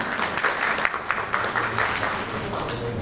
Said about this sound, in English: Can you have a huge round of applause, please?